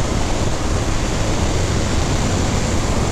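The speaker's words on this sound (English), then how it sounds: "Yeah, it's getting quite windy now." Loud, steady wind roar buffets the rider of a 2019 BMW R1250R Sport motorcycle at speed, a dense unbroken rush close to the microphone that completely masks the engine and any other sound.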